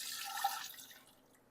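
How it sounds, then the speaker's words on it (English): Liquid poured from a container makes a brief, faint splashing trickle that fades out after a second, with no talk over it. "I'm going to pour towards me because that's easier"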